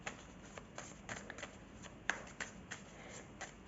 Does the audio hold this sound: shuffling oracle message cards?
yes